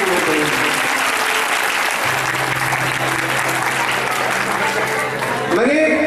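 Loud, dense applause from a large audience at a theatre festival event, sustained and even throughout, with a low steady hum beneath and a brief tonal sound near the end.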